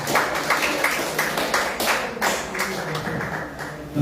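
A church congregation claps hands together in a dense, steady burst of rhythmic applause as an offering during a Sunday worship service, the sound close and lively throughout.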